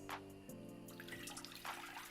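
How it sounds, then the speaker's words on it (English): Water poured into a cooking pot set on medium heat on a stove, a steady splashing stream that starts and runs continuously for about two seconds, close and fairly quiet, with no talk. "I'm going to add 3 cups of water."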